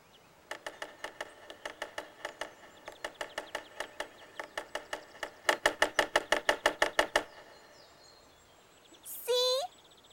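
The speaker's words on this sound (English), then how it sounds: "It's a woodpecker. He's looking for bugs for his dinner." Cartoon woodpecker knocking on wood: crisp rapid taps in several bursts, speeding into a fast, louder drumroll, then stopping before a brief squeaky sound at the end.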